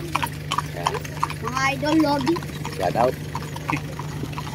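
Hooves clip-clop on hard ground while someone talks over them, with a steady hum underneath and a brief horse snort, at a horse race in San Rafael, Bulacan.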